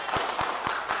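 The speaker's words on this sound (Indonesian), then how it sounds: "Ini tepuk tangannya rekaman, Kang." Recorded clapping played back during an online talk show, a few sharp evenly spaced claps, moderately loud, with no voices over it.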